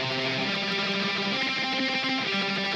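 Distorted electric guitar lead played through a Marshall Valvestate 8100 amplifier, with dense sustained notes and audible pick attack on each note, loud and continuous without any talking.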